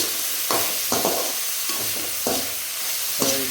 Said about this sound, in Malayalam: സവോള വഴറ്റുകയാണ്.